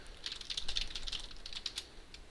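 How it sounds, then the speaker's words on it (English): Fast, steady typing on a computer keyboard while text is entered in the Vim editor: a quick run of light, close clicking keystrokes, fairly quiet, with no voice. "now we can go ahead and type as we usually would"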